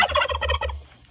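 A turkey gobbles in one rapid, rattling burst close by, loud at first and trailing off within about a second.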